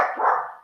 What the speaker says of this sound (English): My dog is freaking out.